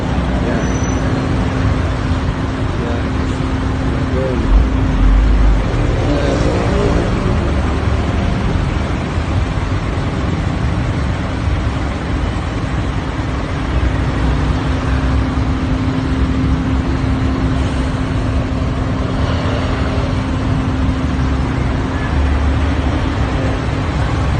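Heavy road traffic in congested conditions, a steady wash of engine rumble and tire noise with a constant low hum, heard continuously at moderate distance with no talk.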